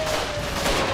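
Rapid gunfire in GTA V as police shoot down from above, a short dense crackle of shots heard close and steady.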